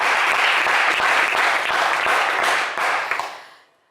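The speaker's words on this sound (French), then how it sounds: "On peut l'applaudir, hein?" Studio audience applause on a French TV quiz show, a dense burst of many hands clapping at full strength for about three seconds before tapering off and fading to silence.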